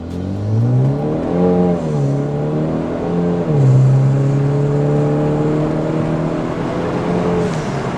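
A Hyundai Veloster Turbo pulls hard from 0 to 60, its engine note climbing loud and close through rising gear sweeps, with sharp drops at each shift before settling into a steady high drone.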